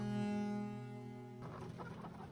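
Laying hens in cages at a large Russian poultry farm, where one henhouse can hold up to 500,000 birds, give drawn-out squawking calls followed by a busier patter of clucking from many birds at moderate distance.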